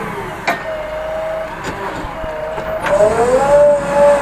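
A tractor engine rumbles and grows louder, its tone rising toward the end, with a few sharp knocks early on.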